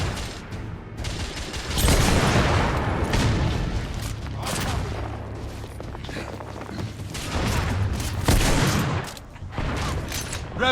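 Gunfire fills a firefight in The Order: 1886. Volleys and bursts come close together and loud, with booming impacts and brief gaps between the heavy exchanges, and game voices are heard faintly underneath.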